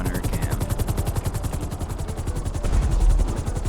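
Helicopter flight with gunner fire in the video game GTA Online, a steady rhythmic rotor chop with rapid machine-gun bursts mixed in, loud and continuous throughout.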